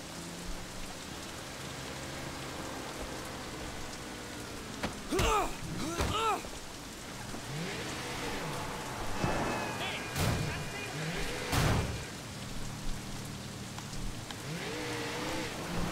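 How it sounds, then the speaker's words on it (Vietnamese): Heavy rain falls in the open-world video game Sleeping Dogs, a steady hiss of downpour spread evenly across the whole stretch, with voices and other game sounds briefly rising above it. "Mưa quá trời mưa."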